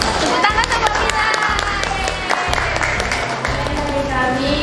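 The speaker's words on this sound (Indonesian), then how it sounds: "Tepuk tangan untuk kita." Indoor audience applause after an Islamic religious talk, dense continuous clapping with some cheering and voices mixed in, fairly loud and close.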